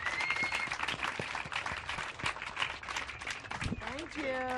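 An audience at a talk on a psychedelic family business applauds steadily at a moderate distance, with cheers and voices mixed into the clapping throughout.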